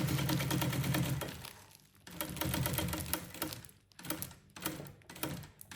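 A sewing machine stitches a seam on a fabric lunch bag, running in steady rapid bursts that stop and restart several times, close up and loud, with no talk.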